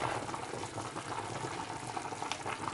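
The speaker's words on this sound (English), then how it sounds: "And as you can see, it's bubbling up." Chicken soup with potatoes bubbling in a pot on the stove, a faint, steady simmering crackle and gurgle with no talk.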